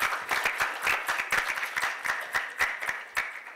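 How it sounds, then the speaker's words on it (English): A modest group applauds at an election post-mortem panel event, with distinct, fairly sparse claps from a small crowd that rise and fall in uneven bursts, close and clear without voices. "yeah, give yourselves a hand of applause."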